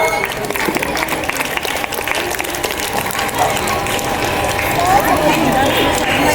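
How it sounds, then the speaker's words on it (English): Parents and children at a school Children's Day celebration clap for a parent, a busy, uneven patter mixed with crowd noise and overlapping talk that swells slightly toward the end. "please clap, big claps to her"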